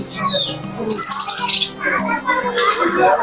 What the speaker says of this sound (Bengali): টিয়া পাখিগুলো খুব সুন্দর করে ডাকে